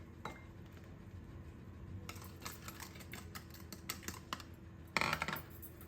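A wire whisk beats vegetable oil and powdered sugar in a bowl for an eggless orange cake, giving quiet, irregular ticks and clinks against the bowl. A brief, louder rattling burst comes near the end.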